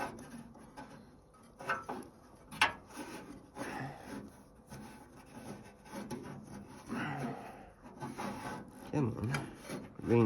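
Rubbing and scraping as an alternator belt is worked by hand onto the pulley of a Farmall 300 tractor, with irregular close rasping scuffs and occasional knocks over about ten seconds.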